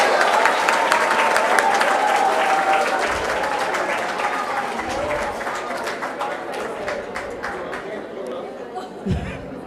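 An audience claps for a young guest being introduced at a school's International Children's Book Day event; loud, thick applause at first that gradually thins and fades, with crowd chatter underneath.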